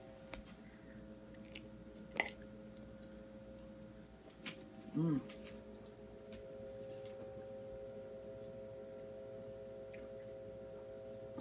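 Someone chewing a mouthful of bacon ranch potato salad close to the mic, with soft moist chews and a brief louder bite against low background hum.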